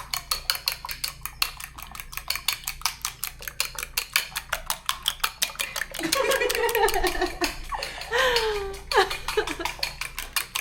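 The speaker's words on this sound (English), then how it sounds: "So you mix the mustard. There's mustard and eggs in there. When you mix that, whisk it, whisk." Mustard and eggs whisked in a bowl, a fast, steady clatter of metal against the bowl in even strokes for most of the stretch, close and fairly loud, with a few brief high squeaks near the end.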